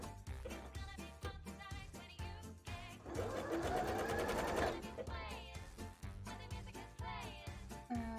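A sewing machine stitches a bra in rapid mechanical bursts, pausing and restarting with one longer continuous run in the middle, close and clear.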